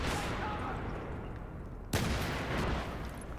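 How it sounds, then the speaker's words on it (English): An enemy grenade bursts in Battlefield 3: a sharp, loud blast cuts in suddenly amid steady gunfire and battlefield rumble, then the noisy combat carries on. "And there's another enemy grenade."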